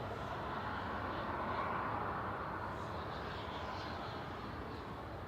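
EasyJet Airbus A320 Classic departing Manchester Airport for Barcelona, a steady distant jet-engine rumble and hiss holding level throughout, with no voices.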